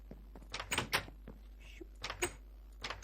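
Doors in the video game Minecraft thud shut in several quick wooden clunks, spaced in small groups at moderate volume with no one speaking.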